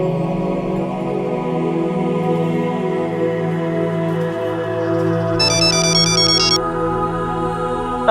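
A phone ringtone plays as a bright, repeating electronic melody in a Hindi TV drama scene, sounding for about a second over a steady musical background.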